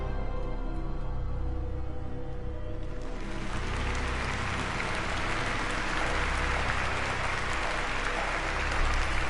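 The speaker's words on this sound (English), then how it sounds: "Where's the applause for the others?" Crowd applause in the video game Virginia swells in after about three seconds over a sustained musical backdrop, then holds as dense, steady clapping to the end.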